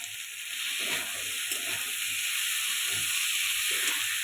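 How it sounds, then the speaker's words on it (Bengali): Ginger and green chilli fry in hot oil with a continuous loud hiss and sizzle, plus faint soft stirring movements underneath. "আদাটা একটু ভালো করে ভেজে নেব"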